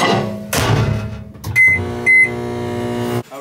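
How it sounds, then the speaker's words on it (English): A microwave oven hums steadily as it runs, with a few clicks and two short, high-pitched beeps partway through. "stir it up and microwave it again."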